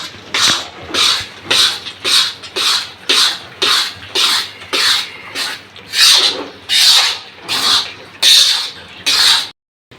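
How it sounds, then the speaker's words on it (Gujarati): Mawa being stirred into roasting gram flour in a pan for mohanthal, a rhythmic scraping and rasping that repeats about once a second, close and steady, with no talk over it. "હવે આપણે આમાં એડ કરશું માવો જે મેં પહેલેથી ખમીને રાખેલો છે બસો ગ્રામ માવો છે હવે આને આપણે સારી રીતે મિક્સ કરી દઈએ"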